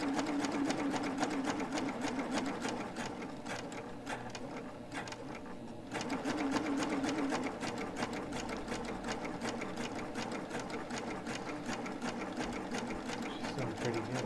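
A serger sewing machine finishes fabric edges with a steady, rapid mechanical whir, dipping briefly near the middle before running on evenly throughout.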